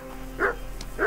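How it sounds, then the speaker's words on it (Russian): A dog barks in the video game Kingdom Come: Deliverance, two short bright yelps about half a second apart over a steady low game ambience. "О, еще одна собака."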